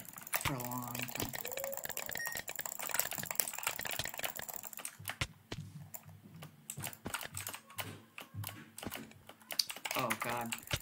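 Computer keyboard and mouse played during bridge games: a steady stream of crisp, close key taps and clicks, with a voice speaking briefly at the start and end.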